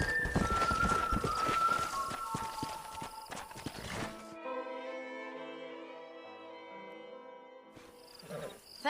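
Horse hooves clip-clop in a rhythmic walking pattern in the Western video game Red Dead Redemption, fairly close and under game ambience, then give way to sustained musical tones before a brief return of hoof sounds at the end.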